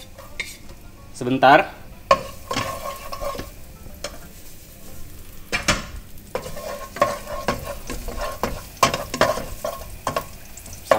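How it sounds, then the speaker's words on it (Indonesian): Garlic stir-fried in a hot pan sizzles steadily while a metal utensil scrapes and clanks against the pan in irregular strokes, close up, with a brief word spoken. "Kita masukkan dulu garlicnya atau bawang putih. Kita oseng"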